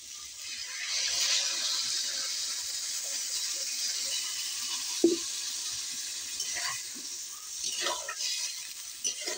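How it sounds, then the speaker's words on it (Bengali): Gravy poured into a pan of sizzling soybean curry, a steady frying hiss with a splashy liquid burst near the middle and a few scraping stirs after it. "ঝোল দিয়ে দেব"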